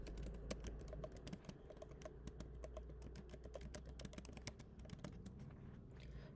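Fast, steady typing on a computer keyboard, close and quiet, a dense run of light clicking keystrokes with no voice.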